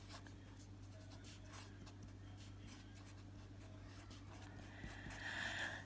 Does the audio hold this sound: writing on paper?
yes